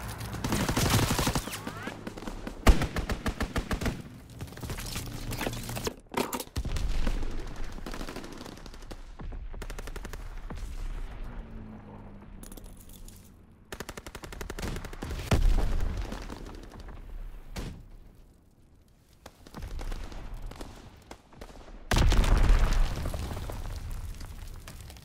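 A fighter aircraft's strafing run in a WWII video game on an Ardennes Forest map: loud bursts of rapid machine-gun fire and booming explosions come in waves, with quieter gaps between.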